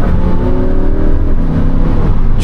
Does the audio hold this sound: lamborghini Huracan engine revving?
yes